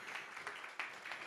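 A church congregation claps together, a faint, steady patter of many hands with a few louder bursts, brief and somewhat distant.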